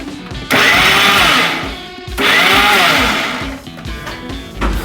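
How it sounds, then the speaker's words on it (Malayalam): A kitchen mixer grinder whirs loudly in two short bursts, crushing grated coconut with bird's eye chillies for a dry tapioca dish, each burst starting abruptly and winding down, followed by a shorter restart. "ചതച്ചാൽ മതി, വെറുതെ ഒന്ന് ചതച്ചാൽ ഒറ്റക്കറക്കം."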